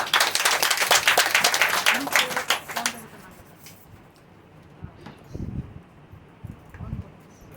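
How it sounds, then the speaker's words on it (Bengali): A church congregation applauds loudly in a burst of dense clapping for a visiting guest from Mumbai, tapering off after about three seconds into sparse claps and murmuring voices. "ওনার জন্য একটা জোরে হাততালি।"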